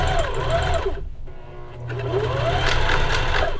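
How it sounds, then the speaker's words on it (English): Sewing machine stitching a skirt's elastic waistband made from a bedsheet, running in steady close bursts with a short pause midway before the motor picks up again. "stitch the ends of the elastic together and sew that opening I left closed"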